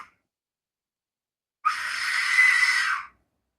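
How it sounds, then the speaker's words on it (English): A distant, woman-like scream, wavering and drawn out for about a second and a half, rises suddenly after near silence and then fades away. "It's like a woman screaming in the distance."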